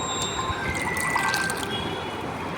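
Washed gongura (sorrel) leaves go into a cooker of water with turmeric, giving a steady watery swish and trickle with a few small splashes throughout, close and fairly loud, with no talking.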